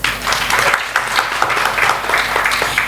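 An audience at a panel debate on women's equality applauds a guest, a short, loud burst of many hands clapping together, close and continuous for about three seconds.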